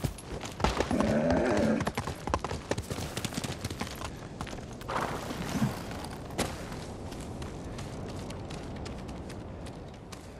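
Horse galloping in the samurai action game Ghost of Tsushima, with rapid clip-clop hoofbeats that are loud at first, then settle into steadier running with a brief whinny-like burst midway, all without talk.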